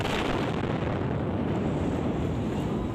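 An explosion and fire at the Pertamina Balongan oil refinery near Indramayu, West Java, Indonesia, produce a loud, sustained, rumbling roar that fills the whole moment without break, with no voices.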